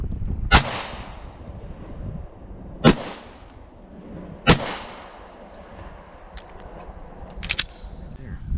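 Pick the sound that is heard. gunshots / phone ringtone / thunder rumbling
gunshots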